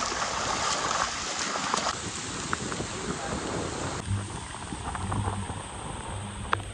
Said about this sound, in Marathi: पाऊस कंटिन्यूस पडत असल्यामुळे इथे पाणी साचायला लागलंय